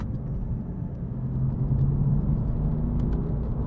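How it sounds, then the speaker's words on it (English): A 2016 BMW M4 being driven gives a steady low engine and exhaust drone from inside the car, a continuous rumble that swells slightly midway. "noise coming from the engine and the exhaust"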